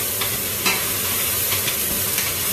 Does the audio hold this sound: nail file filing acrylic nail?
no